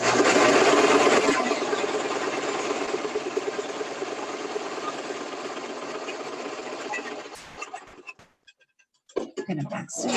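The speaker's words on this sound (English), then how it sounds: "if you wanted to go ahead and do a little secure stitch with a little bit of back stitching" A sewing machine stitches fabric for a bowl cover, a dense fast mechanical whir lasting several seconds before slowing and stopping, then a few short back stitch bursts and clicks, with a person talking.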